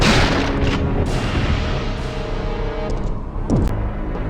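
Western Custom gun firing in Resident Evil 3, loud booming shots in quick succession up close, with a whirring mechanical reload sound near the end amid a dense game soundtrack.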